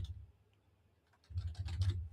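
A computer keyboard clicks in a quick burst of faint keystrokes near the end, after a quieter pause with only a few isolated taps.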